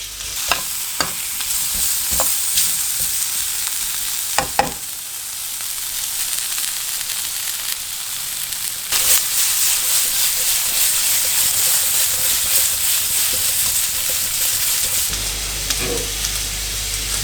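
Green asparagus and mushrooms stir-fry in a pan, sizzling and hissing steadily up close, with a few sharp clacks of a utensil early on and the frying growing louder partway through.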